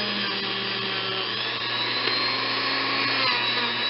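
A buffing wheel spins steadily at close range, polishing a Singer 127 sewing machine part with compound, giving a continuous even whir for the whole stretch with no speech.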